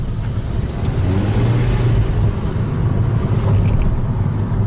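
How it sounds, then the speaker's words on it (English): A 2015 Toyota Hybrid Fielder, fitted with a newly installed used transmission, runs as more gas is given, a loud, low, steady engine rumble that swells slightly in the second half, heard alone without talk. "Let's give it a little bit more gas."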